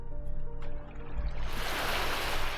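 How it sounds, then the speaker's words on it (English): Ocean waves wash onto a beach while stones are searched along the shore, starting as a low rumble and swelling into a broad, close hiss of surf in the second half. "beautiful hearing those waves coming."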